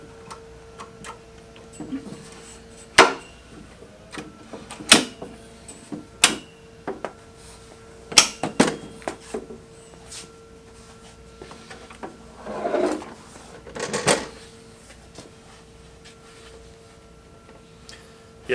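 Folding legs of a Skil TS6307-00 table saw being extended, scattered metallic clicks, clunks and latches close by, with a couple of longer scraping slides between quiet gaps.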